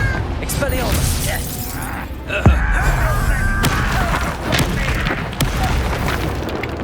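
Spell blasts and booming explosions in Hogwarts Legacy combat, with a loud thump in the middle over a dense, continuous wash of game effects and music while a voice casts spells throughout.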